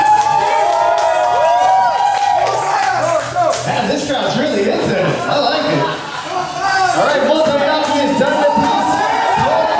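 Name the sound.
crowd cheering at a speed eating contest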